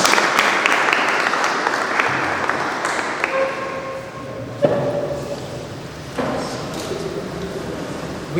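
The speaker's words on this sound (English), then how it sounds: "So a round of applause for them." Audience at a school speech competition applauds the headmistress and deputy headmaster, a broad wash of clapping that thins over several seconds, with a few sharp knocks and a faint tone ringing through.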